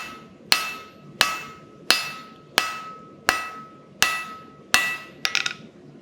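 A blacksmith's forging hammer strikes metal on an anvil in a steady rhythm of about seven sharp ringing blows, each with a bright metallic decay. A final quick cluster of lighter bounces follows, and nobody speaks.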